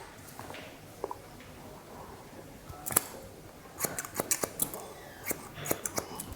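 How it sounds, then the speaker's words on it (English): Scissors snipping hair during a haircut turning a curly mullet into a classic style; quick light crisp snips come in short clusters, close but soft, over a quiet room hum. "use our guide from the left hand side to cut"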